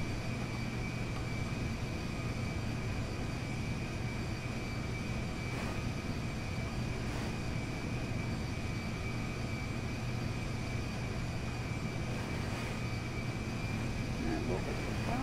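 Steady drone of an airliner's engines in a flight simulator game as it taxis to line up on runway 18, a constant mid-low hum with a high whine running unbroken, with talk over it.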